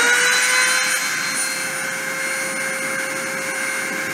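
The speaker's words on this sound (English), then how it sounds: "I'm going to start the spindle and start the deposition." A machine spindle runs steadily at speed for a deposition pass, a loud continuous whine with strong high tones and a broadband roar, held level throughout with no talking.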